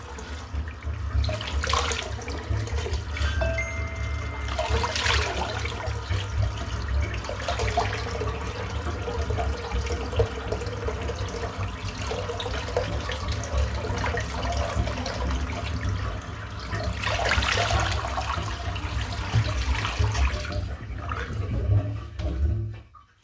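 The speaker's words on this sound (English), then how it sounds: "let's just rinse this brush out" Tap water runs steadily at a sink while a shaving brush is rinsed after a shave with a Feather Artist Club SS razor, a constant close splashing rush that lasts throughout with no talking.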